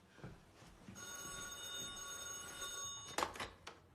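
A telephone rings with a steady electronic trill for about two seconds at a moderate level, then stops with a soft clunk as the handset is picked up.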